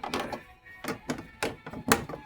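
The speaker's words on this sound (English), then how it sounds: "Those are the clips that are popping out there." Several sharp plastic pops, about five, snap out one after another as door panel clips release from a 2009 Nissan Xterra door. They are close and crisp, with short pauses between.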